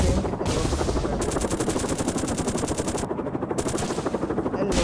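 Machine gun fire in the video game Gun Ship Strike: long, rapid bursts of rattling shots, loud and close, broken by brief pauses, with helicopter-like whirring underneath.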